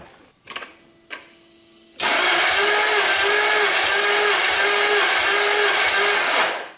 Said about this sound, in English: So I'm going to start cranking over for cylinder 5.